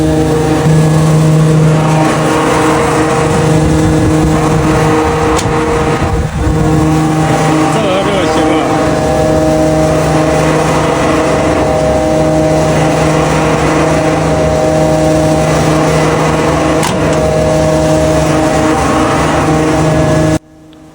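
A 130 kW electric motor, fed from a 380 V distribution box, runs up to a loud, steady drone with a constant tonal whine that holds for about twenty seconds before cutting off abruptly.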